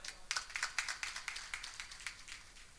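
A kirtan audience in Shendra claps in quick, even rhythm. The claps are soft and somewhat distant, about a dozen sharp beats in a short burst with no voices over them.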